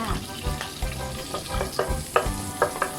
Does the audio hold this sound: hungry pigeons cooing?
no